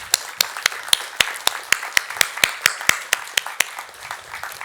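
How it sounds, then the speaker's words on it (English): Audience applause at a youth panel introduction, heard as a steady rhythm of sharp, distinct claps from a few hands at close range, fairly even in pace across the stretch. "Big round of applause."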